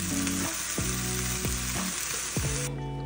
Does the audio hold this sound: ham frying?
yes